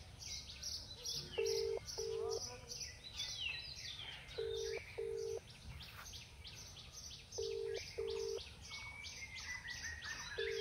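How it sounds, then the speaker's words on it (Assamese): An outgoing phone call's ringback tone sounds as repeated pairs of steady electronic beeps separated by pauses, fairly clear over soft birdsong chirping in the background. "ৰিং কৰি আছে।"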